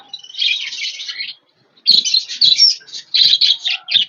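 Budgies on a rooftop where pigeons also gather chatter in close, busy bursts of high twittering chirps, split by a brief pause, with no speech.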